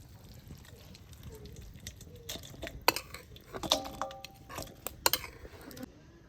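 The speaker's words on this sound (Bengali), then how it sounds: "এবার চিকেন কষাটা ঢালছি" Chicken kasha is poured and scraped out of a cooking pan, with a utensil giving sharp, irregular clinks and scrapes against the metal amid soft wet shuffling, fairly close and moderately quiet.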